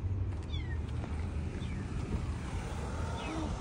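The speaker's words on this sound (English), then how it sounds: "Yeah, but it's a baby cat." A kitten meows repeatedly in short rising cries from inside a car's engine area, heard over steady wind and low rumbling background noise.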